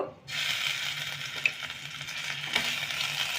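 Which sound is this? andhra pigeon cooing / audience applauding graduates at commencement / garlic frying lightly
garlic frying lightly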